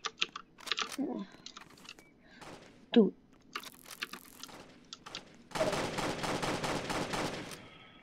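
Gunfire from a gun in the Roblox video game, heard as scattered sharp shots and then a dense, loud burst of rapid fire near the end, with voices talking at times.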